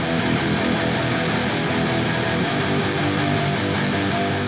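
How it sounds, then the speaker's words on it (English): Octave-down pitched guitar tone adding a heavy lower register beneath distorted guitar parts, a thick, continuous droning wall of sound at steady loudness with no talking. "the third and final pair is this down pitch tone that's adding a lower octave to the guitar parts,"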